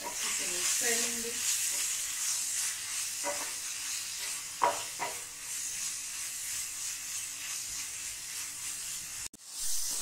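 Paneer bhurji with salt being stirred in a pan, a low sizzle with scattered spatula scrapes and a few sharper knocks against the metal, steady and close throughout.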